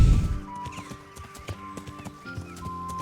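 Hooves of Pebbles, a slow horse ridden in the medieval game Kingdom Come Deliverance, thud in an uneven clip-clop over a steady game soundscape, with a brief snort or whinny and no talking.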